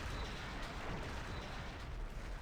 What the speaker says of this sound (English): I'm not too worried about this explosion damaging my ship.